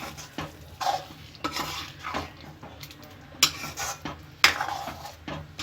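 Green gram curry stirred in a pan on a low flame, with repeated scraping and clinking strokes of a spoon against the pan over a soft sizzle, close and alone.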